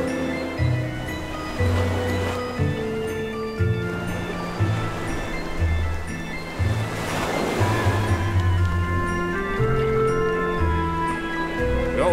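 Ocean surf washes continuously while swimming on the open sea in the Creativerse video game, a steady watery wash mixed with a looping melodic tune, with no voices.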